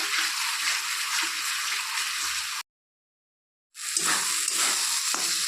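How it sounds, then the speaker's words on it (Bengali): Spice paste with Kashmiri red chilli powder frying in a pan for a potato curry, giving a bright, steady hiss that cuts out completely for about a second before resuming. "মশলাটাকে ভালো করে ভেজে নিতে হবে"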